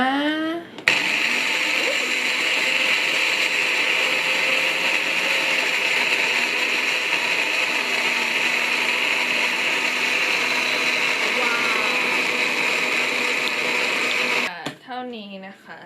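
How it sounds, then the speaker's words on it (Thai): Blender grinding a scallion kimchi paste with a little water, a loud, steady, close whirring roar running about fourteen seconds, with someone speaking briefly just before it starts and again right after it stops. "เราก็ใส่น้ำลงไปนิดนึงเพื่อให้มันปั่นง่ายๆนะคะ โอเค ปั่นเลยนะ"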